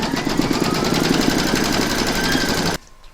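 An embroidery machine stitches a round into fabric in the hoop, a rapid, steady mechanical whirring hum held close and loud before stopping abruptly near the end.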